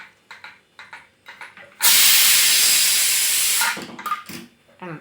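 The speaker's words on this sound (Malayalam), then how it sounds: "അത് പോട്ടെ അവിടെ ഇരുന്ന് ആവി പോട്ടെ" A loud, steady hiss of steam escaping from a cooker after the heat is switched off, sustained for about two seconds between scattered clinks and kitchen handling noises.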